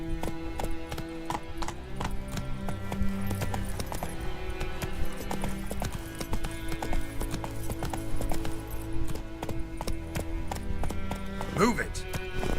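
In the video game The Witcher 3, the horse Roach's hooves clip-clop steadily in a fast rhythmic gait, close and continuous, with a brief whinny near the end.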